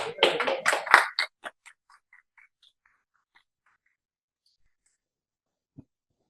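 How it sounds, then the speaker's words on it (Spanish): A short burst of audience applause at a panel session at a tradition gathering: dense clapping for about a second, then a few scattered claps trailing off into near silence. "Un aplauso."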